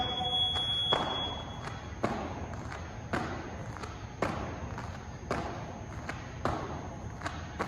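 A steady high-pitched electronic buzzer tone runs throughout, with repeated dull thuds landing roughly once a second, like jumping on a floor.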